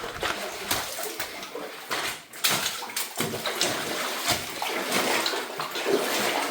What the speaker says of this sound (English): That noise is even cool from when I'm splashing up